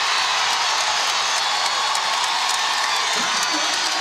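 A basketball arena crowd cheers and roars in a dense, loud, continuous wash of voices with scattered whoops, while a commentator talks over it.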